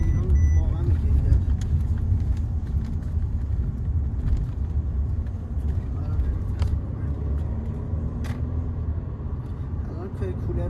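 A Mercedes-Benz C300 Cabriolet drives along with its air conditioning on, its engine and road noise forming a steady low rumble beneath someone talking throughout.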